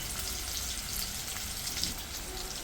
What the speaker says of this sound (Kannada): ಹಸಿಮೆಣಸಿನ್ಕಾಯಿ ಮತ್ತು ಈರುಳ್ಳಿ ಸ್ವಲ್ಪ ಫ್ರೈ ಮಾಡ್ಕೊಳ್ಳೋಣ